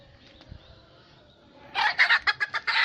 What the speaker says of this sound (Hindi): देखिए ये मुर्गा पकड़ लिया